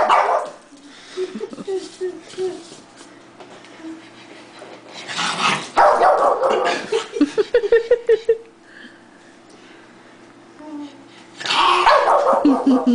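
A pug barks and yips in several bursts, close and loud, with whimpering sounds in between and some people talking.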